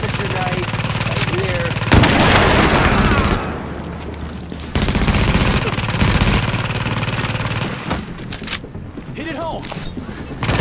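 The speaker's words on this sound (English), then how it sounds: "Grenade out." Rapid automatic gunfire and explosive blasts from The Division video game fill the scene in dense, loud bursts, broken by short pauses.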